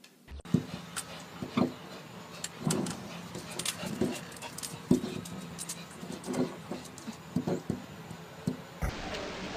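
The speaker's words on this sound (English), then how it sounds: "Mean dog. He's so mean." A dog makes restless, close sounds, with scattered panting, whimpering and sharp movement noises over a steady hum of room noise before everything cuts off near the end.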